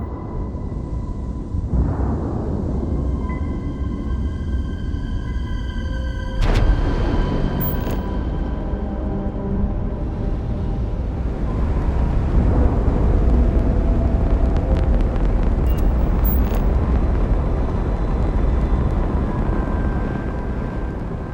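A spaceship lifts off in the Starfield video game, giving a loud, deep rumbling engine roar with tonal whines, a sharp thud near the start, then a swelling thrust that fills the scene with no talking.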